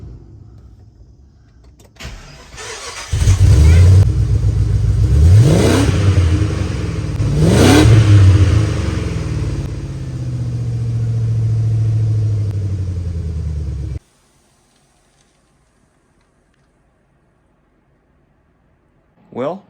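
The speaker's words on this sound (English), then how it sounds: "I think it has a perfect idle sound, and when you rev it up, it gets rowdy a little" A Jeep Grand Cherokee with a budget DIY exhaust and muffler upgrade fires up loudly and settles into a deep idle, with two sharp revs that rise and fall back before the engine cuts off and leaves near silence.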